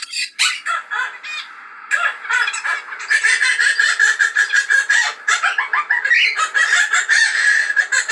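A recorded bird played back over a speaker, squawking loudly in repeated harsh, crowing calls that come in bursts with short gaps and no voices over them.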